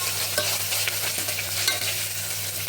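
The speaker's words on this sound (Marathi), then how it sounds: "आता ही छान अशी मी परतून घेते." Ginger garlic paste sautéing in a pan for dal khichdi, giving a steady, dense sizzle with faint stirring scrapes, close and continuous, with no talking.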